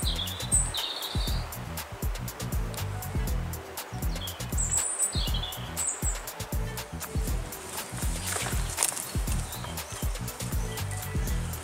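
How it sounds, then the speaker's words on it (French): Scattered bird chirps and short songs ring out faintly near flowing water by the Grotte de la Baume Saint Vérédème, mixed with a steady rush and nearby walking footsteps. "On entend les oiseaux"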